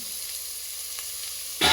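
Carrot and beetroot for a coconut milk pulao hit a hot pan, and the near-silence breaks into a sudden loud, crackling sizzle right at the end.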